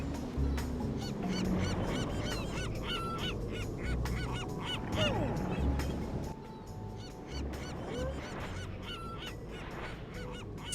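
Seagulls in the Curious George video game give repeated honking, squawking calls over a steady game soundtrack.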